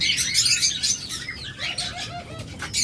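Doves and other caged birds at a bird sale chirp and call in a busy overlapping chorus, with fluttering wingbeats and soft coos mixed in, close and fairly loud.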